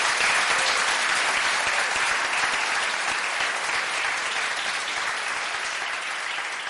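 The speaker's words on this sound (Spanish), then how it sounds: "Un aplauso." Sustained, loud applause from a large conference audience, steady clapping that continues throughout without a break.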